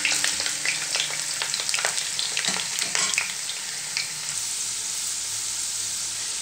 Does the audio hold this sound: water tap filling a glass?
no